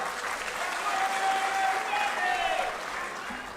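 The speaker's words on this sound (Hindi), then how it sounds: "जन नायक राहुल जी के लिए फिर से जोरदार तालियां।" A crowd at a political gathering, the Samajik Nyay Sammelan at Jawahar Bhawan in New Delhi, applauds in a dense, even roar. It holds steady for a few seconds in a large hall, with a faint voice or tone running through it.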